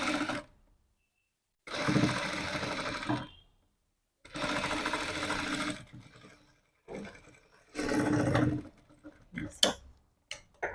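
Sewing machine stitching cross strips onto cloth, running in three close, steady bursts separated by pauses, with a few faint ticks and clicks from handling the fabric between runs.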